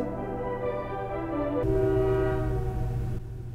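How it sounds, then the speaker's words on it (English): A train passing nearby sounds a long sustained horn, a steady loud blare over the rumble of the cars that cuts off near the end. "Freaking train, are you serious?"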